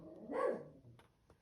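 A single dog bark rings out at moderate distance in a quiet room during a drawing session with oil pastels, followed by a couple of faint soft yips.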